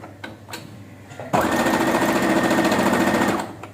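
A sewing machine stitches fabric for a bow scrunchie in one loud, close, continuous whirring run of about two seconds, after a few soft handling taps.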